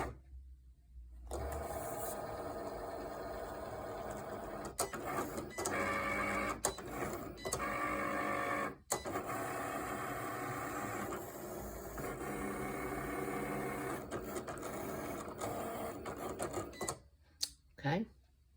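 A Cricut Explore Air 2 cutting machine cuts cardstock, its motor whirring and carriage buzzing in steady bursts with brief pauses, fairly close, while a person talks over it.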